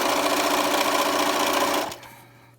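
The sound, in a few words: sewing machine sewing a fabric face mask hem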